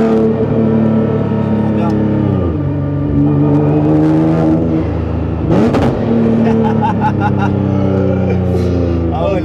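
A Nissan GT-R R35 tuned to 1500 hp, its engine revving loudly up and down with sharp backfire pops, a person speaking briefly over it.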